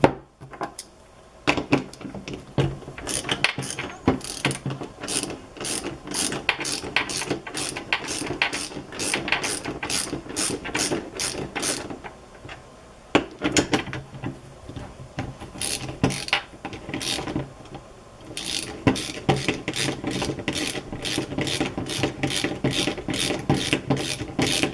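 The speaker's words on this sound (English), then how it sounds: "we need to undo the two bolts that hold the two halves of the actual caliper together" A hand ratchet clicks repeatedly while loosening the two bolts that hold the halves of a Honda CB750 front brake caliper together, in quick bursts of pawl ticks with short pauses; the sound is close and there is no talking.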